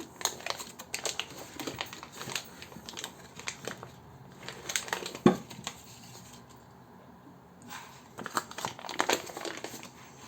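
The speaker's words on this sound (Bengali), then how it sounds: "আমি এখন ঘিগুলা প্রথমে ওপেন করে নিচ্ছি কভার থেকে" Butter being unwrapped from its packaging to make ghee, with close crinkly crackles of wrapper in busy bursts separated by brief quieter pauses, no talk.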